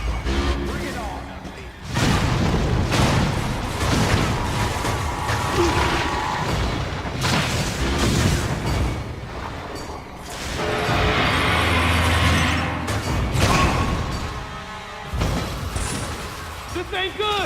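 Gunfire, booms and crashing impacts from the Metroid Other M game fill a dense, loud mix of blasts and mechanical noise, with voices talking over much of it.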